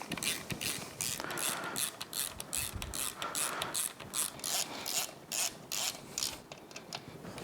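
A ratchet clicks in quick repeated bursts while tightening bolts on a Yamaha F225 outboard powerhead during a rebuild, close and fairly quiet, with short pauses between strokes.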